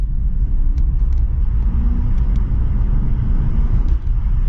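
An Aston Martin Rapide engine drones loudly and steadily while accelerating in a tunnel, a deep low rumble that fills the space with an enclosed, echoing quality throughout.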